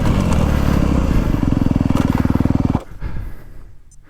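A 2025 KTM 350 XC-F or Honda CRF250R dirt bike with a Yoshimura exhaust roars loud and close, its exhaust revving in a rapid pulsing rhythm before dropping off and fading into a lower idle.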